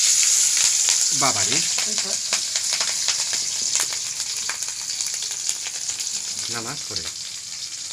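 Mung dal khichuri sizzles and fries steadily in a pan in a village kitchen, a close, continuous hiss with small crackles throughout, while a person speaks briefly twice.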